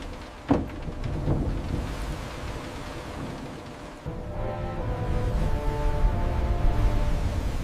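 A thunderstorm with rain approaches at sea in the Drake Passage near Antarctica: a sharp thunder crack rolls into a steady wash of rain and wind that thickens and grows louder toward the end.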